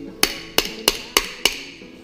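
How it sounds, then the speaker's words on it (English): Hammer tapping a nut onto an old engine crankshaft on a bench: five sharp metallic taps in an even rhythm, close and clear, with no talk. "If it doesn't go in, just give it a wee bit of a tap with the hammer"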